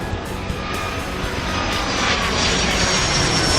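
Jet airliner taxiing in the airport game Airport Madness 3, a loud, steady engine roar with a high whine that swells slightly toward the end, with no voices.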